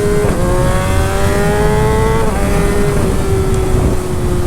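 A Kawasaki ZX10 sport motorcycle in low power mode revs hard through first and second gear, the engine tone climbing and dropping at each shift, loud and close amid wind rush.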